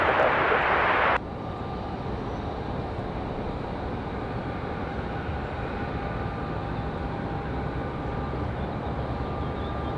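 An Airbus A321 on its takeoff run at Raleigh-Durham airport: a steady, broad engine roar that holds at a fairly even level throughout, heard from a distance after a brief louder burst at the start.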